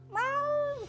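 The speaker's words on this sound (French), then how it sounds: "Son miaulement était sonore et puissant." Paddy McPat, a busker's singing cat in a film trailer, lets out one loud, drawn-out meow that rises, holds steady, then falls away, alone and close.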